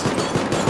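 Rapid automatic gunfire from a Payday 2 heist shootout, a dense, steady burst of close, loud shots that runs the whole moment without pause.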